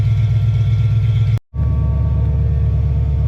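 The 351-swapped Foxbody Mustang's V8 idles steadily while warming up, a close, loud, even rumble cut by one brief dropout before it carries on.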